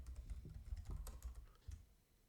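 Fast typing on a computer keyboard as a command is entered, a quick run of close, faint key clicks with no talk over them.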